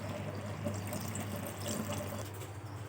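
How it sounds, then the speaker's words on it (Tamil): A steady, faint stream of tamarind water pours into eggplant curry for a few seconds, with a low hum in the background. "புளி தண்ணி வந்து ஆட் பண்ணியாச்சு."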